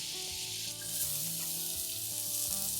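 Finely chopped vegetables, including cabbage and French beans, fry in melted butter in a soup pot, making a steady, close sizzle that carries on evenly throughout without voices.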